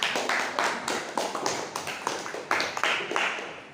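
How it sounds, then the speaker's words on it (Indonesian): Students in a classroom give a round of applause for a group of classmates, a dense burst of close hand claps lasting a few seconds with a ragged, uneven rhythm. "Tepuk tangan untuk kelompok 4."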